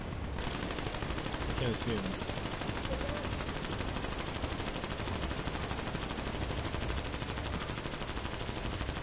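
Dense video game gunfire, rapid automatic bursts aimed at a sniper, rattles almost continuously at close range for the whole stretch, forming a loud, unbroken wall of shots.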